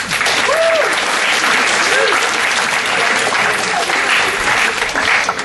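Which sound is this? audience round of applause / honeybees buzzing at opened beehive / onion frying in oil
audience round of applause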